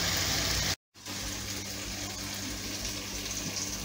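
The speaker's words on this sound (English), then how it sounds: "I'm going to add a little water" Water poured into a cooking pot while making chicken mandi, a continuous rushing gush that breaks off briefly near the start, then resumes and flows steadily and close.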